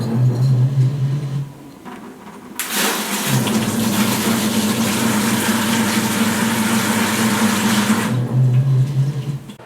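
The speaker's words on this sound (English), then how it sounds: "going to turn the pump on. See how bad she leaks." Water pump running steadily for several seconds, pressurising a truck camper's plumbing with all valves shut, a loud continuous hum with a rushing wash over it, preceded and followed by lower motor drone.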